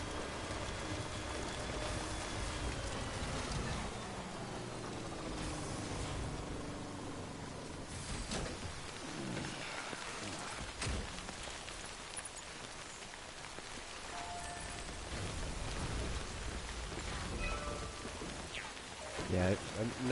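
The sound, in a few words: heavy rain in Death Stranding video game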